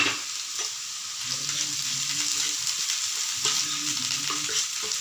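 Ginger and chili paste frying with onions for a spicy pabda fish dish, stirred in the pan: a constant bright sizzle with soft scraping strokes, heard close, while a faint low hum sits beneath it.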